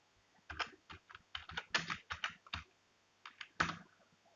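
Keys tapped on a computer keyboard while writing in Notepad, in short bursts of quick, close clicks separated by brief pauses, quiet and alone.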